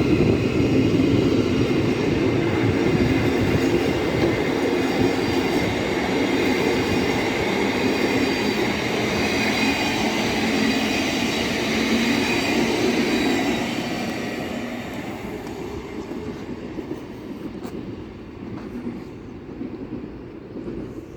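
A Grand Central Class 180 diesel train runs past the platforms at Finsbury Park station, with a loud, continuous rumble and rail roar. It fades somewhat toward the end, and no voices are heard.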